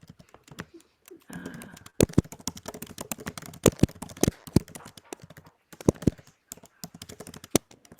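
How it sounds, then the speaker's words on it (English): Loud typing on a computer keyboard at a kitchen table: sharp, close keystroke clacks come in irregular bursts and flurries, separated by short pauses. "I know probably any typing is loud, but mine is Really loud."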